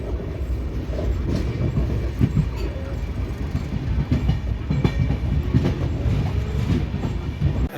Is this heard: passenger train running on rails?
yes